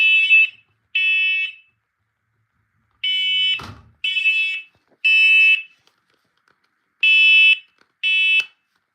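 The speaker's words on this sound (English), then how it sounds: "First alert carbon monoxide and smoke alarm." A loud, piercing electronic alarm from a First Alert carbon monoxide and smoke alarm beeps in short bursts, pairs and singles with silent gaps between, plus one brief thump partway through.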